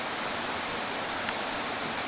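Waterfall at Charco Prieto in Puerto Rico, pouring as a dense, steady roar of rushing water that stays even and continuous at close range.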